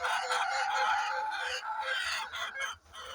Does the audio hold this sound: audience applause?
no